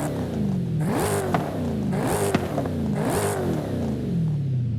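A supercharged Dodge Charger Hellcat Redeye Widebody in Forza Horizon 5 revs in three repeated climbing pulls, the engine note rising with a whining supercharger and dropping between each, loud and close.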